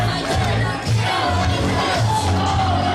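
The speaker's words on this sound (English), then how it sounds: "You can hear what this Worcester crowd thinks of her. They love her." A wrestling crowd in Worcester roars for the wrestler Little Mean Kathleen, a continuous dense din of cheers and shouts with a brief dip partway through before the noise swells again.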